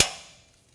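A carriage bolt pushed up through a square hole in the frame of a 2020 Ram 2500 truck gives a single sharp metallic clank, close and alone, that rings out and fades within a fraction of a second.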